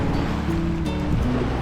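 Waves on a large lake near Port Elgin, Ontario, wash in with a steady, close, broadband roar like sea surf, continuous and unbroken, with no one talking.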